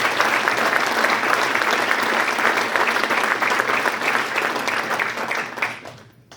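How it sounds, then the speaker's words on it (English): Loud, dense audience applause at a West Point event for the introduction of a new athletic director, holding steady for about five seconds before tapering off. "We can clap for that, right?"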